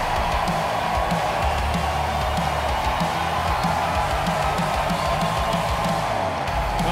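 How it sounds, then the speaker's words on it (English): Dense crowd noise fills a college baseball stadium during an NCAA regional final in Charlottesville, a steady roar of cheering and scattered whoops that holds loud and unbroken throughout with no clear talk over it. "And listen to this crowd."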